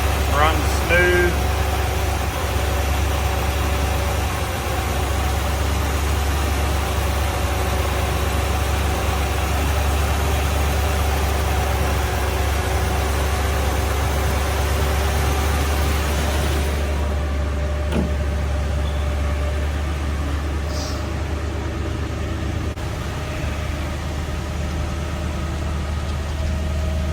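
A 1963 Chevrolet Corvette split-window coupe idling high after a cold start, a loud, steady low engine drone that runs the whole time, with a few faint clicks and a person talking over it.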